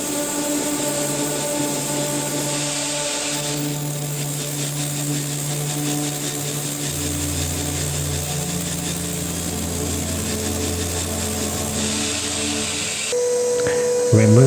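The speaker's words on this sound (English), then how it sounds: "Make holes using a 9mm drill bit." A power drill bores holes into a wall with a 9mm drill bit, giving a steady, sustained whirring grind whose pitch shifts partway through before it stops near the end.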